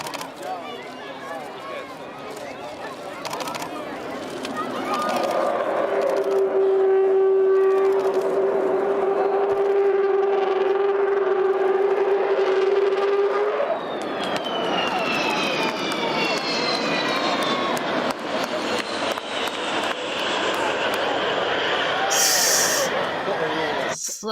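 Roar of a Falcon fighter jet in the Forza Motorsport showcase, a loud sustained engine howl with a steady whine, rising into a sweeping, shifting roar as the aircraft passes, with talk over parts of it.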